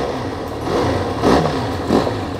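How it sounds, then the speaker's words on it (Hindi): Benelli TRK 502 motorcycle exhaust note, loud and close, with a steady idle and two sharp throttle blips that rise and fall about a second apart. "एक बार सुनते हैं कैसा है एग्जॉस्ट नोट"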